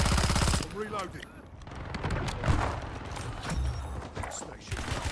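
Video game gunfire crackles through a rapid burst of shots, followed by scattered cracks and rumbling impacts, with game radio voices talking over the action.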